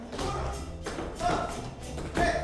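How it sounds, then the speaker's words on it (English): Students learning to drum at the Mission Cultural Center in San Francisco, producing a steady run of taps and thuds that surge in a few louder accents over a dense, reverberant room wash. "While these students are learning drumming"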